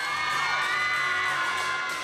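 Audience at a student Korean dance competition cheering, shouting and whooping continuously, a dense loud crowd roar with high-pitched young voices throughout.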